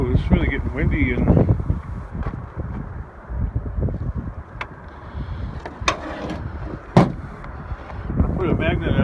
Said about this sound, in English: it's really getting windy